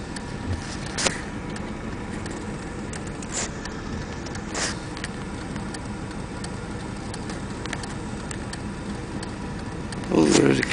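A car passes on a road outside, a steady low rush of traffic with a short louder swell near the end, along with faint ticking and background voices.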